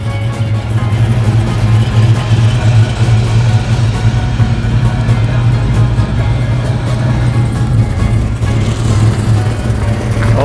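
Loud Cadillac hearse engine idling at a classic car and hot rod show, a steady deep rumble throughout with outdoor crowd noise and faint talk in the background.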